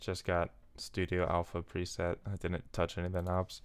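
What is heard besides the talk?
No everyday noise stands out behind the speech.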